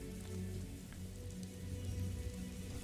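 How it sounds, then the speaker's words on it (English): Steady rain falls in the video game Morrowind, a continuous, even hiss of droplets with low rumbling underneath and no clear breaks. "And it's raining."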